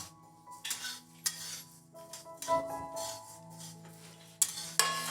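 Cumin seeds tossed into a hot pan for a tomato pickle, with metal spoon scrapes and clinks against the pan and a soft sizzle, stirred in irregular bursts close up.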